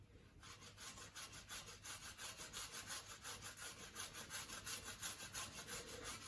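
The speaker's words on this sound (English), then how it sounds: "So grab your potatoes and we're just going to grate them into there." Firm potatoes rasped against a grater for potato gems, a steady close-up rhythmic scraping of quick even strokes continuing throughout, with no talk.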